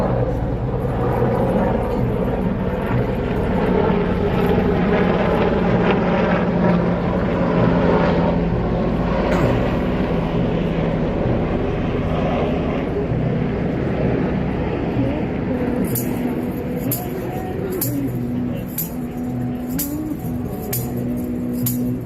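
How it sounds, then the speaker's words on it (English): A low, steady rotor drone of a police helicopter passing overhead, rumbling continuously over background traffic noise. "That was a police helicopter there, Darren."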